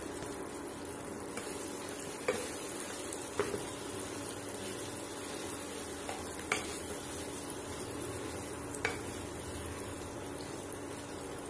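Potato being stirred into spices frying in a pan, a steady close sizzle with scraping spoon knocks at irregular intervals, no voices.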